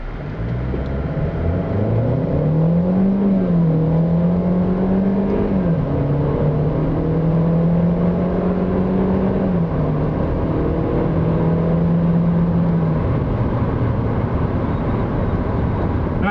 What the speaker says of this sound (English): so here's our first 0 to 60 test